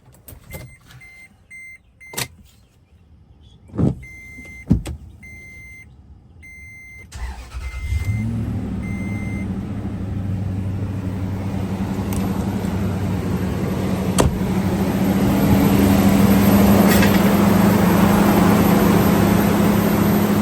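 A Toyota Tundra with the 4.7L engine starts up after a timing belt job: a few clicks and clunks, then the engine turns over and settles into a steady, smooth idle that continues to the end.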